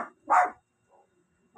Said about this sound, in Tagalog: pag may narinig po kasi yung aso namin, si Winter, na tawol sa labas